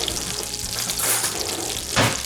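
Butter sizzling in a pan that still holds drippings from cooked sausage, a steady close crackle and hiss with a brief louder burst near the end, no talking.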